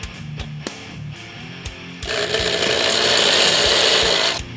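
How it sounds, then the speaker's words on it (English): A few clicks and knocks lead into a loud, steady whir of a power drill boring into the wooden body of a Jackson KVX10 King V guitar, running for a couple of seconds before stopping. "And drill into the body."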